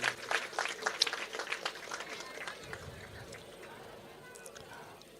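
Applause from a crowd welcoming a guest at an outdoor devotional music gathering, a burst of clapping that starts strongly and gradually thins and fades, with voices and background noise around it.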